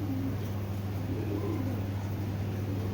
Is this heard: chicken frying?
no